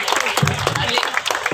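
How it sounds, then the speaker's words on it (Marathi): A wedding audience claps in a short burst while a voice keeps talking over the applause. "आपण सर्वजण टाळ्या वाजवूया,"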